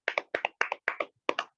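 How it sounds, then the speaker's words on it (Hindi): Several people in a church congregation clap their hands in quick bursts, with sharp close claps grouped in pairs and a brief pause near the end. "आइए हम सभी आगे के वचन के लिए ताली बजाकर फिनी अंकल का स्वागत करें।"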